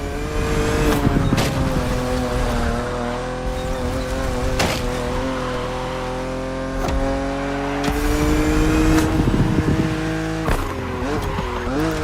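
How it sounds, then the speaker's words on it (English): A BMW Z roadster in the racing game The Crew Motorfest drives at a steady engine drone, with rising and falling pitch as it shifts gears and a few sharp transients, loud and continuous with no talk. "BMW Z models are what we call roadsters."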